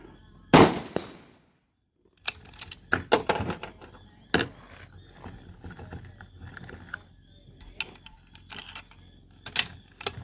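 A rifle fitted with a muzzle brake fires one loud, sharp shot near the start, followed after a brief silence by quieter scattered clicks and clatter, with no voices.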